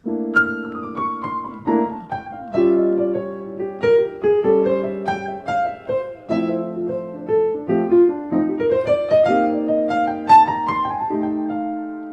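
A short solo piano phrase from the first four bars of a piece, single notes and chords moving up and down in a steady rhythm, played clearly and alone.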